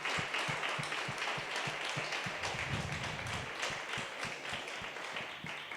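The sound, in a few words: congregation applause in church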